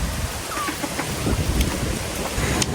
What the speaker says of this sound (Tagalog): Sa sobrang lakas po ng ulan ay baha po dito sa daanan po.